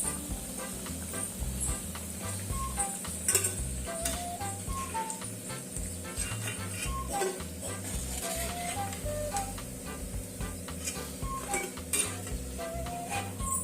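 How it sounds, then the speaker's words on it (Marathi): Bhakarwadi frying in a pan of oil for a Maharashtrian bhakarwadi rassa dish, a steady close sizzle with occasional stirring scrapes and light utensil clinks throughout. "आता हे राहिलेले सुद्धा आपण अशा तळून घेणार आहे."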